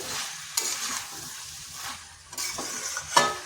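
Chicken and bottle gourd stirred together in a pan, cooked without added water: a hissing sizzle under a few louder scrapes and knocks of the spoon against the pan, close and without speech.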